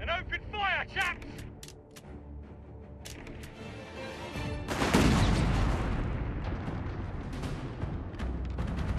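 Gunfire and artillery rumble in the World War II strategy game Company of Heroes 3, Italy campaign, with a voice at the start, then a loud, sustained wash of blasts and shots from about five seconds on.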